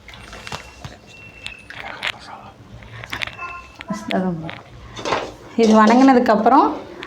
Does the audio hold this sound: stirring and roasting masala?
yes